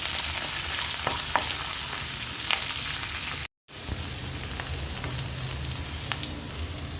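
Onion frying in hot oil in a pan for oats upma, a steady close sizzle with occasional stirring scrapes, broken by a very short gap midway.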